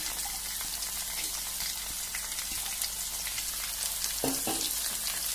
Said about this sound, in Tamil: இதையும் சேர்த்து நல்லா வதக்கணும்